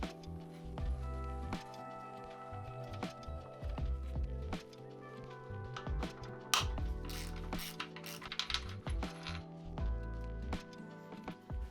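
Rapid ratcheting clicks from a socket wrench loosening the engine mounting bolts and nuts on a Kawasaki ZX7R motorcycle, coming in repeated bursts of turns with short pauses between, close by and moderately loud.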